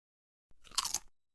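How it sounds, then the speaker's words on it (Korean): A single short crunchy bite into a snack, a crisp burst of crackling chewing lasting about half a second, close and clear with silence before and after. "윤지는 오빠랑 같이 두 쫑쿠를 먹어요"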